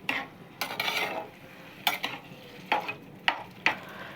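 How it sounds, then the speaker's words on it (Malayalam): Beef just added to a hot pan for a coconut rice and beef dish, sizzling as a spoon stirs it in several sharp scraping bursts, close and clear with no speech. "ഇതിലേക്ക് ബീഫ് ഒഴിച്ചു."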